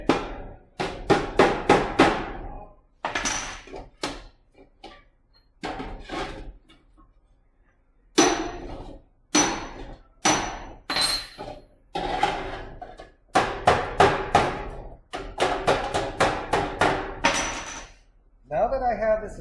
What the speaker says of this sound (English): we're going to make sure we're nice and flush here using the side of the hammer